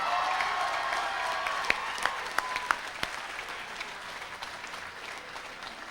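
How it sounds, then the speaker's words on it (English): Audience applause fills a commencement ceremony hall, a dense steady wash of many hands clapping with a few sharp louder claps standing out, gradually thinning toward the end. "Would everyone join me in a warm round of applause for all these future Trojans among us?"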